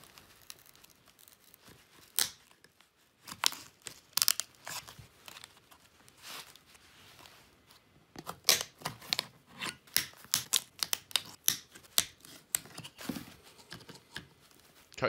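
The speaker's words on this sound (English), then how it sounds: "Remove the staples using a screwdriver." Staples being pried out of a wooden frame with a screwdriver make scattered sharp clicks, snaps and scraping bursts. They come in irregular clusters, loud and close, with quiet gaps between them.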